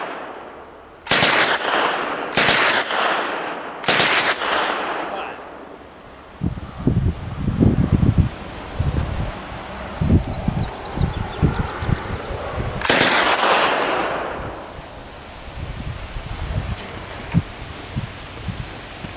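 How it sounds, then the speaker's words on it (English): Machine pistol at an outdoor machine gun shoot in Red Wing, Minnesota, firing several loud, sharp bursts near the microphone, with rustling, handling noise and wind between shots, and another loud burst later. "It's a machine pistol."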